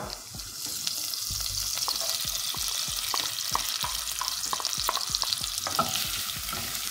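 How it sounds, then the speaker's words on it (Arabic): Onions sautéing in butter in a pan, a soft frying hiss under busy repeated stirring and scraping strokes, close and continuous. "انا عايزه بس البصل يبقى لونه ذهبي. هشوح البصلة سنة"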